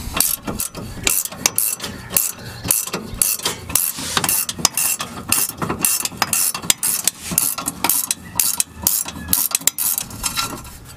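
A wrench loosens the nut on a Corksport rear sway bar end link, a rapid, continuous ratcheting clatter of pawl clicks in quick bursts, close and fairly loud, running alone without voices.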